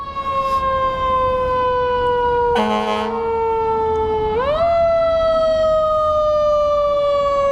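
A fire truck siren wails loudly and steadily, close by, with a sharp pitch sweep as it passes, over road noise.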